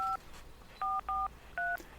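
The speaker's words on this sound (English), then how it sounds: "via the miracle of editing, I'll put some appropriate mobile phone tones in here" Mobile phone keypad tones sound as four short, clean two-note beeps in an uneven rhythm, fairly quiet against a faint background, with no talking.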